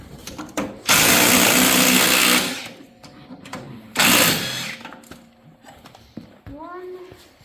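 A power tool whirs in two long bursts while removing screws from a Yamaha Snoscoot snowmobile being fitted with a new rear shock, with shorter clicks and handling noises between runs.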